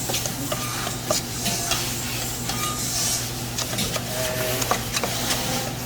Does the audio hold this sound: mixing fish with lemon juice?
yes